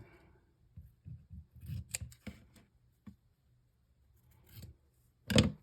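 Scissors snip and trim paper for a vintage craft tag stack, a run of short close cuts with small gaps, then a louder final snip.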